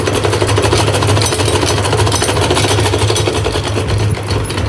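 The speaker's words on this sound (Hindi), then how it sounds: "ये देखिए बिल्कुल किनारी पे हम सिलाई लगाएंगे" Sewing machine stitching right along the edge of fabric for a pouch, a loud, rapid, steady mechanical chatter running throughout, close up with no talking.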